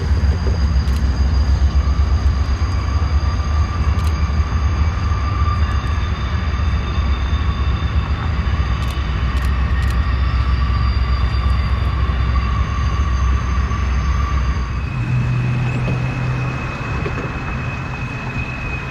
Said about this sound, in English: It was a pretty decent train too, with 2 relatively fresh engines in the lead, the trailing one being a newly rebuilt SD75 IACC.